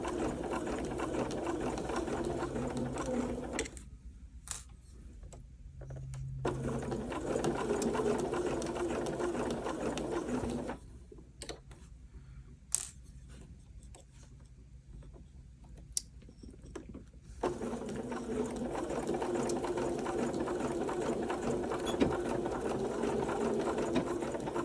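A sewing machine stitching knit fabric runs in steady whirring bursts close up, stopping and restarting several times, with faint clicks and handling sounds in the pauses.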